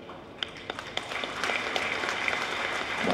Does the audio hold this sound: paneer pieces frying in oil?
no